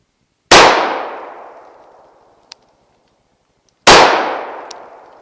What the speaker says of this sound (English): I'm going to shoot it 5 times, check it, and then shoot 5 again.